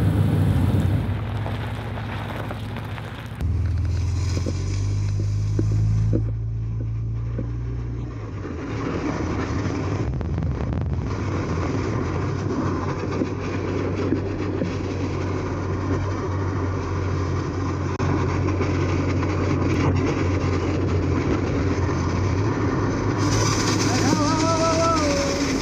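Vehicle driving down the road dragging a sandbag, with a continuous rumbling road and engine noise, a louder surge early on, and people talking over it.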